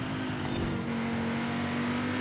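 A 2020 Audi RS3 Sedan driven in Forza Horizon 5 holds a steady, loud engine drone with a constant humming tone and a brief brighter swell early on.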